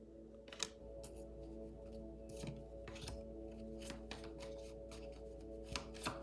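A deck of tarot-style cards is shuffled by hand in a quiet room, giving soft, faint riffling and flicking sounds with brief taps, no speech.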